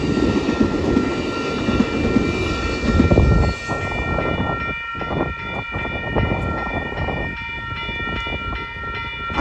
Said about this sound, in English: How many times am I going to catch this locomotive?